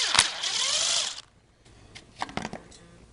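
Power tool spinning off size 10 flange nuts on a 1995 Suzuki G16A engine during disassembly, a loud whirring burst for about a second, then quiet followed by metallic clinks and rattles of parts being handled.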